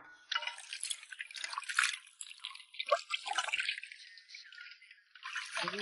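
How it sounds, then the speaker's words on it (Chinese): Tap water runs and splashes over a bitter melon as it is rinsed at a kitchen sink, an uneven close trickle with brief drips and breaks, fairly quiet throughout. "爸爸先给苦瓜洗一下。"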